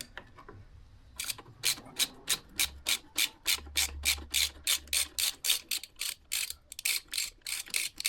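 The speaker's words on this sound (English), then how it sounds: "just undo the Torx bolt" A Torx bolt is undone with a T45 bit and a 13mm ring spanner on a KTM 890 SMT motorcycle, with rapid, evenly spaced ratcheting clicks repeating close up and clear.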